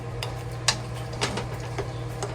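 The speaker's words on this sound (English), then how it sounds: "Just slowly stir fry until the sugar melt" Plain sugar is stir-fried in a pan over medium-low heat for a chicken and potato stew: scattered light clicks and scrapes of a utensil against the pan ring over a steady low hum, without speech.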